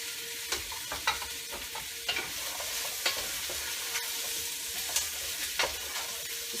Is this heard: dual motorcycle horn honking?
no